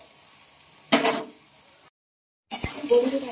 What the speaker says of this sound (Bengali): এইভাবে কিছুক্ষণ ভালোভাবে নেড়ে চেড়ে নেবে বন্ধুরা